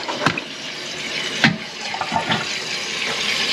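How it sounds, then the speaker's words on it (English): A toilet tank refills after a flush, with a steady hiss and rush of running water and a few faint knocks and clunks from the tank. No one speaks. "So see our water's running in, so it should quit when that gets full."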